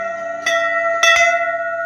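A temple bell in Munsyari rings with bright, sustained metallic tones. It is struck three times, once early and twice close together near the end, with a long shimmering decay between strikes.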